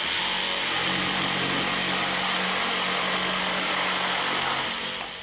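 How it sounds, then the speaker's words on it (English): A Bosch GST 140 jigsaw cuts through thick timber with orbital action engaged, giving a steady, loud, continuous motor whine and rasping saw noise that runs unbroken for the whole stretch. "See what a dramatic difference the orbital action makes to the cutting speed, particularly in thick timber."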